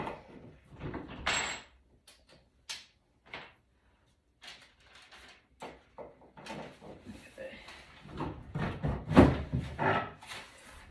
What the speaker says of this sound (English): So I like to take my drawers out.